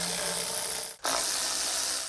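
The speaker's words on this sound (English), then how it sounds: "Next, we wanna pull off our cover. 10 millimeter bolts plus a T30." Steady mechanical whirring from a ratchet or power tool backing out 10 mm bolts on a Toyota Prius engine cover, running continuously with one brief break near the middle.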